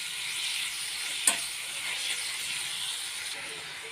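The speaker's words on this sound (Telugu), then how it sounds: "ఇప్పుడు ఈ ఆనియన్స్ మంచిగా కలుపుకుందాము" Sliced onions and green chillies sizzle in a pan for an egg curry while being stirred, with a steady frying hiss and a single sharp scrape of the spoon against the pan.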